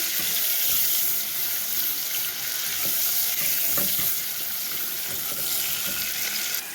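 Kofta frying in oil and butter, a dense continuous sizzle with a watery hiss, fairly loud and close, with faint stirring knocks now and then.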